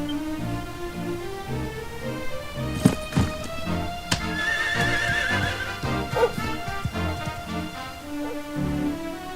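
A horse in the video game Dragon Quest XI neighs, a loud whinny over steady background music, with hoof clip-clops and a few thuds mixed in.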